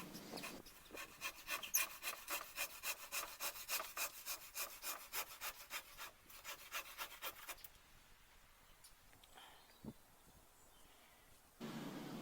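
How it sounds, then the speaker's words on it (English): A handsaw cuts the protruding wooden wedge and tenon ends off a gate in steady, rhythmic rasping strokes, about a dozen evenly spaced pushes, before the sawing stops and faint handling noise follows. "After which the sticky out bits of the wedges and the tenons is then cut off."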